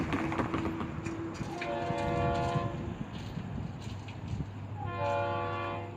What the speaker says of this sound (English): FEC's 292. The only train I gotta catch today.